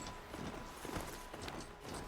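A ram-like riding mount in a video game trots along with a quiet, steady clip-clop of hoofbeats, faint and even throughout.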